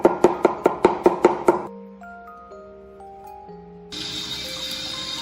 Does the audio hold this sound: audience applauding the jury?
no